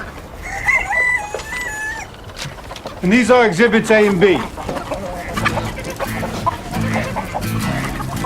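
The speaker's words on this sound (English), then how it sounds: "These are my chickens." Chickens cluck and squawk close by, including a rooster-like crow, while a person talks over them.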